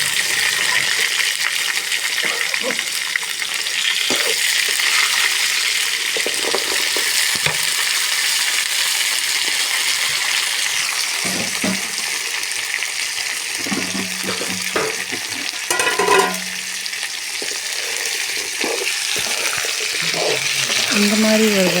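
Masala ingredients for village-style chicken thokku frying in a pan, a continuous close sizzle with occasional stirring knocks and a brief louder clatter partway through.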